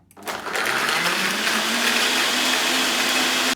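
Blender whirring up a smoothie, starting from a brief click and ramping within half a second to a loud, steady motor whine with a constant churning roar, no speech.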